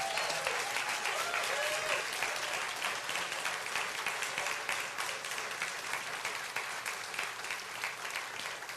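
A church congregation at a first-anniversary service applauds together, a dense, sustained wash of clapping that fills the room evenly and fades slightly toward the end, with some voices mixed in.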